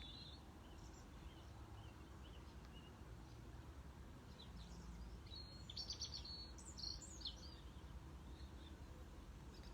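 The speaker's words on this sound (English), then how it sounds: "And just hearing the sound of the birds here." Birds chirp and tweet outdoors, faint scattered calls heard through a steady low background rumble, with a few brighter chirps in the middle.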